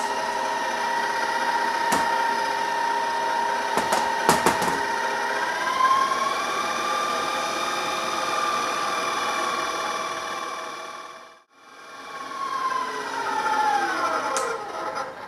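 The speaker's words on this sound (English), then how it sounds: "Just let it mix up for about 2 minutes." An electric stand mixer fitted with a paddle beats sweet roll dough, giving a steady whirring motor drone with a few light knocks near the start and a brief drop-out before the hum resumes.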